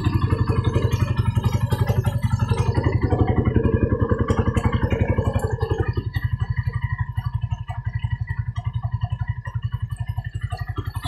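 Carbureted 180cc Suzuki Raider motorcycle engine idling close up after a fresh rebuild, a steady, even low thrum with light mechanical clatter that holds throughout and eases slightly in level partway through.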